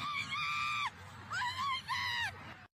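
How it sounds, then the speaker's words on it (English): Several voices let out loud, high-pitched screams in three long bursts as a vehicle plows into a crowd at a decades-old holiday parade. "A tradition here for nearly 60 years, turning to screams and chaos."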